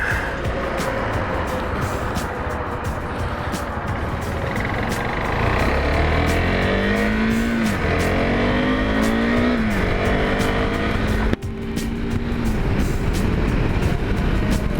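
A new motorcycle with fresh tires sets off on its first ride, a steady engine drone and rushing road and wind noise rising as it pulls away, with engine pitch sweeping up through the gears and no talk.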